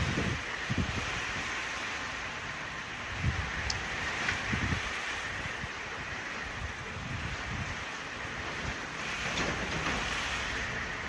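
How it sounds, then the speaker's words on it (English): Wind gusts roar steadily outdoors on a rainy day, a broad constant rush with occasional buffeting thumps against the microphone. "The wind is blowing."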